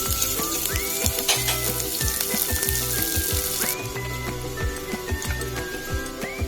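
Onion and curry leaves sizzle in hot oil for kanda poha, a loud, continuous crackling fry with rhythmic scraping of a spoon against the pan and faint high clinks throughout.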